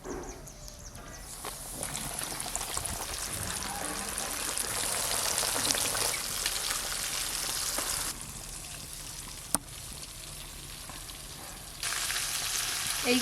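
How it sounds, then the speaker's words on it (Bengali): KFC-style chicken pieces deep fry in hot oil, a dense continuous bubbling sizzle close by with a few sharp clicks and shifts in level, no voices. "এইগুলোও কিন্তু খুব সুন্দর ভাজা হচ্ছে।"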